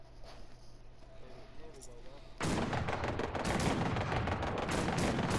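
Sustained gunfire in Fallout 76 during a workshop fight with vulture raiders erupts at full loudness about halfway in, a dense, continuous barrage of rapid shots after a quieter ambient opening, with voices talking.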